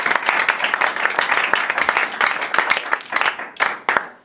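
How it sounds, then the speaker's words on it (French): A church congregation claps and applauds together for the Lord during a French-language sermon, a dense, loud burst of many hands that keeps going steadily, then thins toward the end, with faint crowd voices mixed in. "Acclamons pour le Seigneur."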